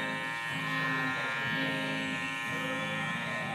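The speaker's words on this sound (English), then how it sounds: "with the Osters, these run at a lot slower rate, so it's nice just to taper in that neckline into nothing" Oster electric hair clippers buzz steadily while trimming and tapering a beard neckline, a close, continuous motor hum with slight shifts in tone as the blades move along the skin.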